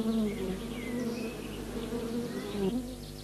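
Honeybees buzz inside a hive, a dense, steady drone from many insects close by with wavering pitch as individual bees pass near.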